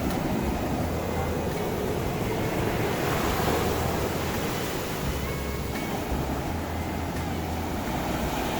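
Rough ocean surf crashes on the beach at San Juan, La Union. The roar is steady and loud, with rolling swells and constant wind buffeting.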